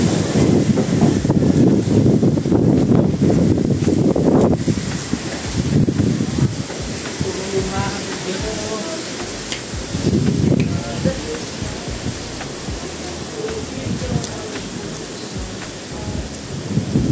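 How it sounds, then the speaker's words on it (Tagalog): Typhoon with strong wind and heavy rain, a loud continuous roar of wind and rain with deep rumbling gusts, strongest at the start and easing slightly later, with a voice speaking faintly in the storm. "Grabe yung bagyo dito. Bagyo guys, bagyo."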